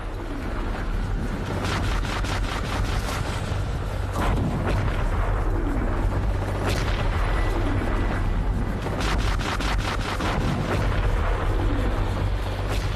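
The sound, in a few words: cannon fire and explosions from the Schleswig-Holstein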